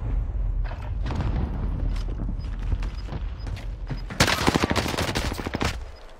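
Shotgun gunfire in a video game: a run of loud, close blasts with mechanical clatter, growing into a dense burst of rapid shots near the end over steady game background noise.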